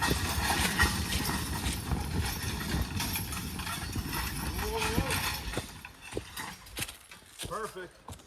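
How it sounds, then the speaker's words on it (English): A heavyweight Belgian horse new to logging works in the woods, hooves clopping irregularly over forest ground at close range amid rustling and handling noise, with some low vocal sounds toward the end. "This horse is new to logging as far as I know."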